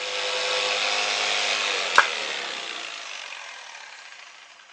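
Mafell P1CC jigsaw running, a steady whirring buzz that is cut by a sharp click midway, then winds down and fades as the motor spins to a stop.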